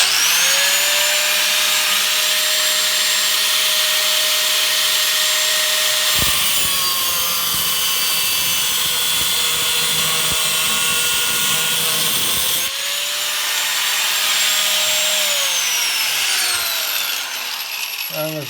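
Aldi Ferrex 40V cordless angle grinder cutting: a loud, continuous high-pitched whine and grinding roar that dips in pitch under load midway, then carries on steadily, close up with no talking.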